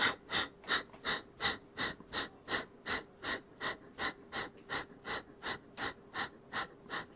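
Rhythmic forced exhales during a yoga bridge pose, about twenty sharp, evenly spaced breaths through the nose at a quick steady pace, close and clear with no talking.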